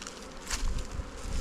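A hive of honey bees opened in spring while brood hatches, giving a steady, close buzzing drone with no voices over it.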